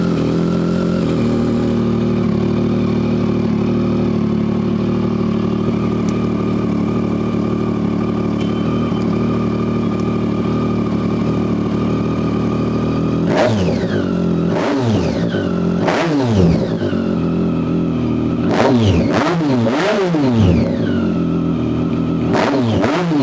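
A Triumph three-cylinder bike derived from the Daytona 675 idles with a steady, loud mechanical drone, then is blipped through several sharp throttle revs that rise and fall in quick bursts near the end.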